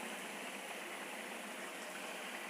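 Water pours into vegetables cooking in a pan for sambar, a steady bright hissing rush that runs unbroken and moderately faint.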